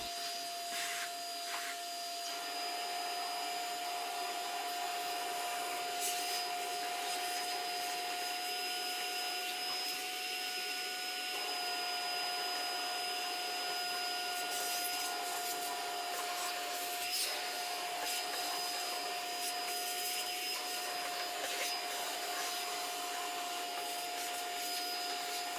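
A Metabo AS18LPC 18V cordless vacuum cleaner runs steadily while sucking dust and wood chips off a workbench, a loud continuous whine with a constant tone and rubbing, scraping noises as the nozzle moves over the surface.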